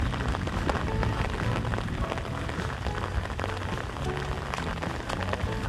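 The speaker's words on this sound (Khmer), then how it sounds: "ឥឡូវមេឃភ្លៀងរហូត" Steady rain falls continuously on a surface during the rainy season in the countryside, a dense, even patter with no gaps.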